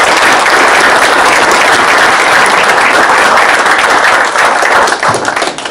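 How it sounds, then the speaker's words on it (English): An audience gives a senator a round of applause at a Bill of Rights Day speech, loud, dense clapping from a large crowd, sustained throughout and thinning slightly toward the end. "let's give him a round of applause"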